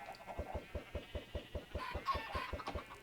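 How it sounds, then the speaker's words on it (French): Chickens in the Minecraft video game cluck in a quick, even series of about a dozen short clucks, moderately loud, with a brief busier patch of overlapping clucks near the end and no talking. "je vais encore avoir plein de poules"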